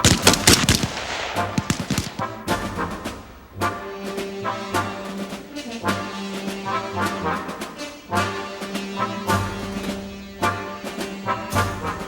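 M16A2 rifles fire at pop-up targets on a military range, sharp loud shots cracking out in quick irregular bursts and single reports across the whole stretch, with no talk.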